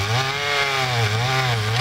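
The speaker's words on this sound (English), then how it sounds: "Standing tall as the most powerful chainsaw in mass production today" A Stihl MS 881, a large high-powered chainsaw, runs steadily at high revs with a loud, continuous buzzing engine drone and a slight wavering in pitch, heard alone.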